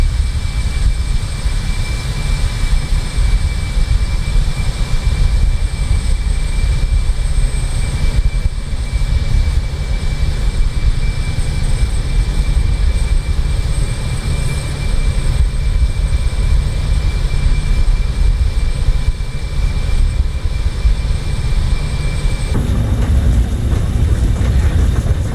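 A jet aircraft taxis in Microsoft Flight Simulator with its engines at about half thrust, a loud constant roar with a steady high whine running throughout, the tone shifting slightly near the end.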